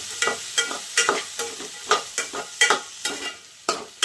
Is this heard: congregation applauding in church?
no